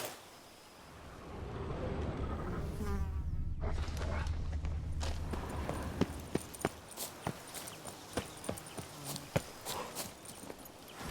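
Insects buzz around a centipede spawning ground in The Witcher 3, a droning hum early on that gives way to a run of sharp, evenly spaced footsteps or clicks.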